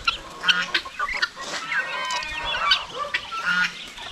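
Geese honk among other farmyard fowl, several short nasal calls scattered over a few seconds at moderate distance, with chickens and ducks nearby and no talking.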